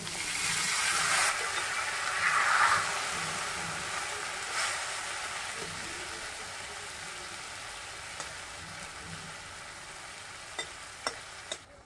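Mrigel fish curry in a pan just after the fish and water go in: a loud hissing sizzle at first that fades to a quieter bubbling simmer, with a few sharp clinks near the end.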